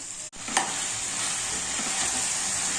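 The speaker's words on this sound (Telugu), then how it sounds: "దీనిలో ఫ్రెష్ కరివేపాకు వేసుకొని చిక్కుడుకాయలు కూడా వేసుకోవాలి" Broad beans being added to a pan of frying onions, potatoes and fresh curry leaves, with a steady loud sizzle and one brief clink of stirring near the start.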